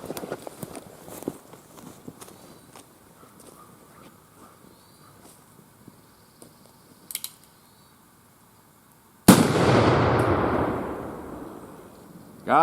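An 1847 Colt Walker revolver fires once at a beer can on a stump outdoors, a single loud blast with a long rolling echo after a quiet stretch of footsteps and rustling.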